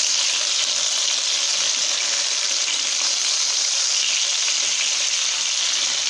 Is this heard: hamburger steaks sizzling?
yes